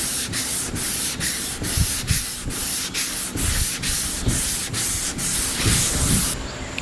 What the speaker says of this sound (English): I'm gonna get this side sanded